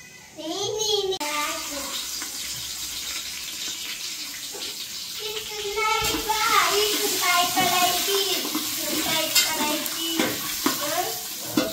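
Ground onion paste fries for chicken biryani, a continuous sizzle with stirring scrapes, while voices, including a child's, chatter over it throughout.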